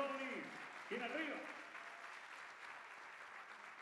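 Applause at a singing workshop concert rises for a singer and fades to a soft, distant patter, with a voice speaking briefly over the start.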